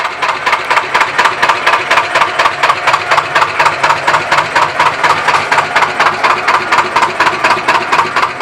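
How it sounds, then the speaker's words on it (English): Engine of a 1996 Orion 60-foot traditional narrowboat ticking over, a loud, steady, regular thumping beat of a slow-running diesel heard close up with no voices. "I'll give the traditionalist out there a quick chance to listen to the engine"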